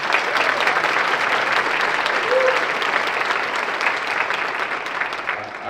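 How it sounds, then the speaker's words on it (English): A breakfast audience applauds young speakers with steady, dense clapping that holds evenly throughout, with no talk over it. "let's give those young fellas another round of applause"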